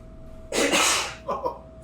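A single loud, sharp sneeze bursts out, followed by a couple of short, softer vocal sounds, with a faint steady hum underneath.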